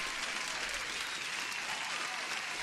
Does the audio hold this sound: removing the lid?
no